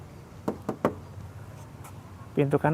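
Knuckle knocks on the thin metal body panel of a 1990 Honda Accord Maestro: three separate raps, then a quick cluster of hollow, tinny knocks close up, with faint talk in the background.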